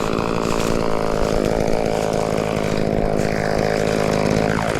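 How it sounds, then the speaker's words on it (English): Chainsaw cutting a red oak log, running loud and close with a steady buzzing roar that wavers slightly as it bites through the wood, with no voices. "Let's get the saw running here."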